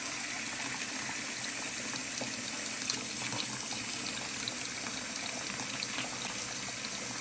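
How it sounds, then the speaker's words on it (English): Cold water runs steadily from a tap into a kitchen sink as it fills for washing leafy greens. The rushing, bubbling flow is continuous and fairly close, with no talk over it. "So I'm gonna fill up this sink with some cold water"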